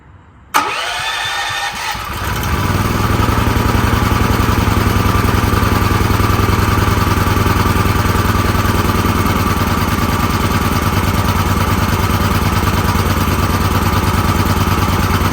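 A gas generator, revived after years in storage, cranks and catches after a brief silence, then settles into a loud, steady, close-up running drone with no one talking.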